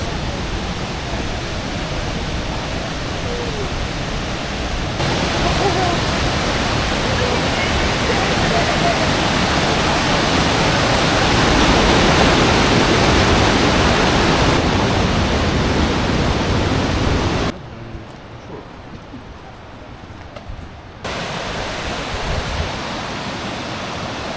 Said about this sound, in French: C'est pas une cascade distinguée, c'est une cascade de force